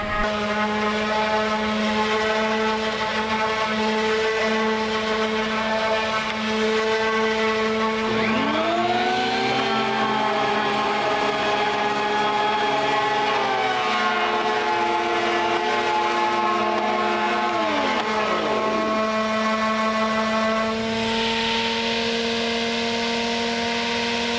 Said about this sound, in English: So I'm gonna plane them down one more time